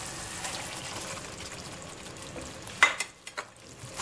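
Chicken pieces fry and sizzle in Thai red curry in a pan, a steady crackling hiss with a sharp clatter near the end as they are added and stirred in.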